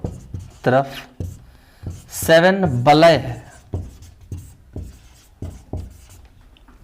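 Chalk or marker strokes on a board during a school lesson, short scratchy taps and rubs in a loose rhythm, partly under a teacher's voice speaking in bursts.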